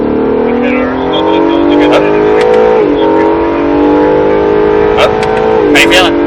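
An Acura NSX engine pulls hard on a race track, its note climbing steadily in pitch, dipping briefly at a shift, then rising again. Close and loud in the cabin, with an instructor's voice coaching over it.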